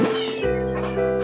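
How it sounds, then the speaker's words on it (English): A house cat gives one drawn-out, close, loud meow lasting over a second, sliding in pitch, heard indoors beside a computer during gameplay. "And now the cat has jumped in front of the screen again."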